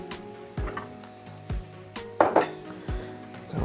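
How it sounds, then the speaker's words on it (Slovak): A spoon stirs mustard into a pork sauce in a pan, producing a series of distinct clinks and scrapes against the metal at a steady, unhurried pace, close and clear with a faint sizzle beneath. "To rozmiešame."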